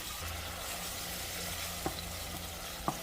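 Ground taco meat browns and sizzles steadily in a pan, a continuous close frying hiss with two brief utensil scrapes or clicks near the end, no voices.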